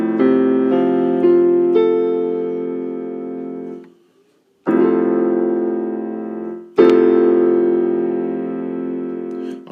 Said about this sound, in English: That sounds like this when I play it on the piano.